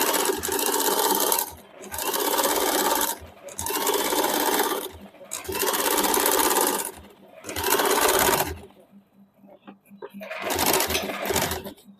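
Sewing machine stitching the sleeve of a suit in bursts, several loud close runs of rapid needle chatter separated by short pauses, with a lighter run near the end.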